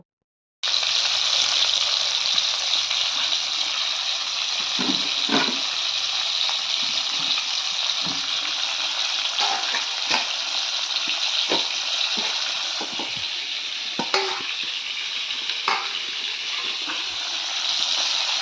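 Four pieces of snakehead (shol) fish frying in hot oil over a stove: a steady, loud hiss and sizzle that starts abruptly and runs continuously, with occasional sharper pops and spatters.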